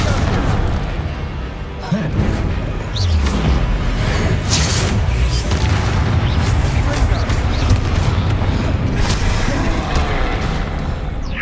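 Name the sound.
Confringo and Bombarda spell blasts in Hogwarts Legacy video game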